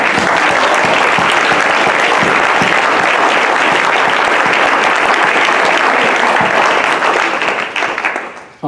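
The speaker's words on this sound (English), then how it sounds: "giving him the biggest round of applause so that he can hear it" Loud, sustained applause from a large audience at a school board of education business meeting, dense steady clapping filling the room for several seconds before tapering off at the end.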